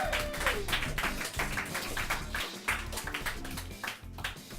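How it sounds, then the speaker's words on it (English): A live audience claps for a poet at a performance night, dense sustained applause filling the room at a steady, even level from start to finish with no voices over it. "Can we have a round of applause, please, for Jonathan Legg?"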